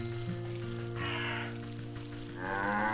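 Cow in the Wytchwood video game lets out short lowing calls over a steady humming game soundscape, two brief tonal bursts set apart, moderately loud with no speech.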